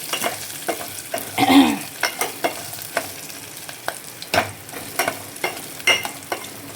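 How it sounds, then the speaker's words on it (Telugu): Dried red chillies frying in a pan, a steady sizzle broken by repeated scraping clicks of stirring at an uneven rhythm, close and moderately loud. "ఎండుమిర్చి బాగా వేగిపోయాయి"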